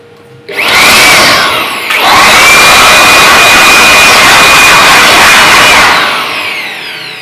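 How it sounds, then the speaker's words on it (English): A 700W generic electric blower runs steadily with a loud, continuous whine and rushing airflow. It starts up sharply, stays at full speed for several seconds, then winds down near the end. "So that's the generic electric blower."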